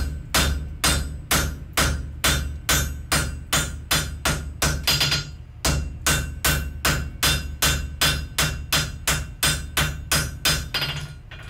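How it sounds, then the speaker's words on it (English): Steady, evenly spaced hammer blows ring out as wrought iron is forged into a hammer, about two dozen loud close strikes with one brief pause partway through. "we're going to hammer that down"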